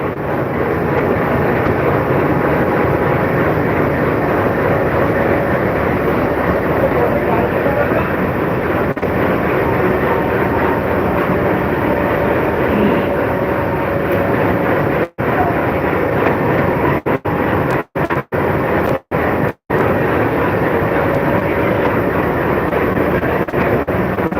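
The Sagardari Express, bound for Rajshahi, passes Darshana Halt station with a loud, sustained rumbling roar and wind buffeting the microphone, briefly cutting out in short gaps near the end.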